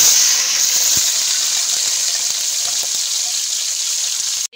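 Kaleji, small cut pieces of liver, frying in hot oil in a pan, giving a steady loud hiss and sizzle with faint scattered pops, close and continuous until cutting off abruptly.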